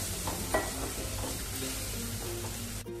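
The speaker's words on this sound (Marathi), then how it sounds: "आता ह्याच्यात कांदा पण घालूया आणि चांगला परतवून घेऊया कांदा सुद्धा." Onion sautéing in a pan over low gas for Rajasthani dal, a steady close sizzle with soft stirring scrapes and a brief clatter early on.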